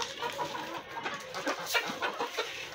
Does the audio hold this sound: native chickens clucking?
yes